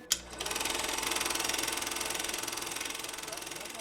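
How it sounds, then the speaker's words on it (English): A film projector running, a fast, even mechanical clatter with a steady rapid rhythm that starts abruptly after a short click and continues at moderate level. "the noise of the projector"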